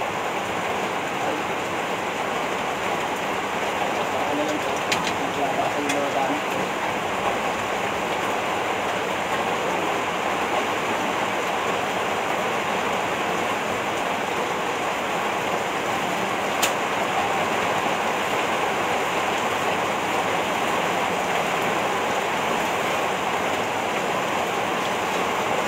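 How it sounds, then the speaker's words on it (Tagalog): Heavy rain from Typhoon Kristine pours steadily, a dense unbroken hiss of water on surfaces lasting throughout, with a couple of faint sharp clicks and no clear talking. "Ayan, nalakas pa uli ang ulan."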